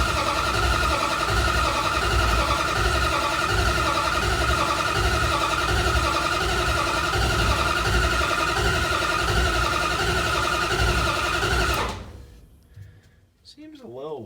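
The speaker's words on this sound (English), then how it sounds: "I think we crank on it and see if we get some oil pressure" A 1971 Plymouth Barracuda engine cranking over on the starter with the distributor unplugged, a steady loud rhythmic churning that runs for about twelve seconds and then cuts off abruptly, leaving quiet.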